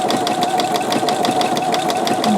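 A sewing machine stitching appliqué on fabric runs steadily up close, a loud rapid mechanical whir with an even rhythmic clatter of the needle and a constant motor hum, with no voices.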